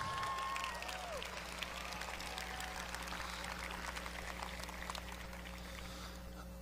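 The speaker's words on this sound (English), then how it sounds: "let's give those three a big round of applause" Graduation audience applauding at a high school ceremony, a steady broad wash of clapping from a large crowd, loud at first and easing slightly toward the end, with a faint voice briefly heard at the start.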